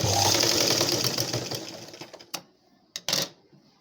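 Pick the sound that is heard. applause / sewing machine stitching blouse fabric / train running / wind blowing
sewing machine stitching blouse fabric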